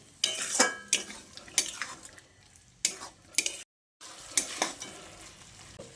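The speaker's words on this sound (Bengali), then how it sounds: "আলু আর সয়াবিনটাকে খুব ভালো করে কষিয়ে নিতে হবে" Potatoes and soybean chunks with spices being stirred in a pan, with scraping spoon strokes and bursts of sizzling in an irregular rhythm, close and moderately loud, with a brief silent gap near the end.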